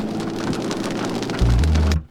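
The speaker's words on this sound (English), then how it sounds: "It's raining." Steady rain patters down hard and continuously on a rainy evening at a campground near the Mackinac Bridge, with a low rumble swelling near the end before the sound cuts off abruptly.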